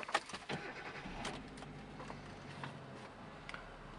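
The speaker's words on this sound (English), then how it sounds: "If we turn the ignition on," A Kia Picanto's ignition is switched on and the engine starts, with a few soft clicks and key sounds followed by a quiet, low engine hum, heard faintly from inside the car.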